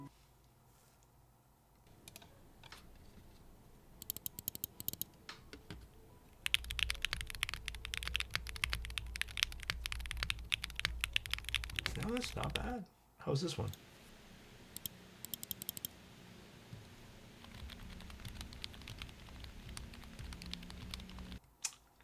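Typing on a DP104 full-size mechanical keyboard build: bursts of close, crisp key clacks start and stop between stretches of speech, with a few quieter keystrokes near the end.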